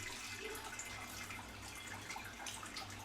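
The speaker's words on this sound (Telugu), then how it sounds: "దీని మీద చల్లటి వాటర్ పోసుకుందామండి." Cold water poured over drained pasta at a home kitchen, a soft, steady splashing and trickling stream that stays fairly quiet and even for a few seconds with no talking.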